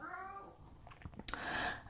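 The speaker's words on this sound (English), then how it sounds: "that's my kitty wants to get out." A house cat meows to be let out of a room, a short, fairly faint call, preceded by a low murmuring sound in a quiet indoor setting.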